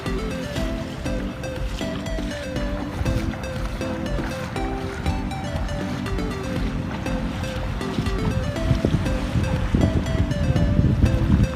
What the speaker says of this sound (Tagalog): Nakaka-relax yung tubig ng dagat.